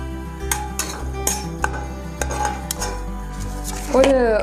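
Whole cinnamon, cloves and cardamom tipped into hot ghee in a pan, giving sharp metallic clinks and scrapes of utensils against cookware with a faint sizzle underneath, close and fairly quiet.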